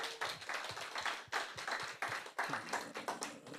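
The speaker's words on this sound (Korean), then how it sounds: "우리 이현주 강사님께 큰 박수 부탁드리겠습니다." Audience applause at a Korean beauty and health business seminar. Dense, steady clapping from many hands fills the whole stretch and swells in waves, with no talking over it.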